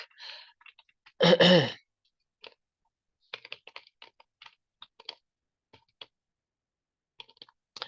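Scattered clicks of typing on a computer keyboard while an HTML tag is entered, irregular and quiet, broken early by a loud breathy sigh or throat noise.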